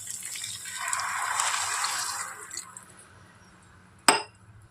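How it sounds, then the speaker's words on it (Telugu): Water pours into a clay pot of chicken biryani made with butter, a bright splashing gush lasting a couple of seconds that tails off, followed by a single sharp clink of the vessel. "ఇప్పుడు నేను వాటర్ వేసుకుంటున్నానండి."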